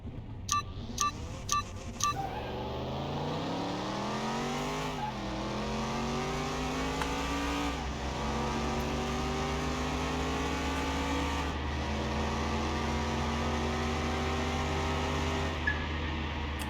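A Volkswagen races in Car Mechanic Simulator 2021, the engine revving up through several gear changes with rising and dropping pitch after a few short clicks at the start, loud and steady with no talking.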